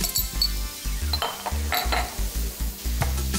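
A spoon scrapes and clanks rhythmically in a pan as red chili paste is stirred quickly, with repeated close knocks of metal over a light sizzle.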